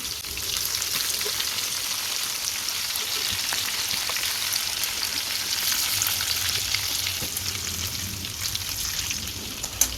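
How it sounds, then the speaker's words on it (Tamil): Chicken 65 deep-fries in a kadai of hot oil over a medium flame, a continuous loud close sizzle and crackle with no talking. "ஸ்டவ்வை மீடியம் ஃப்ளேமில் வச்சு நல்லா பொரிச்சு எடுத்துக்கலாம்"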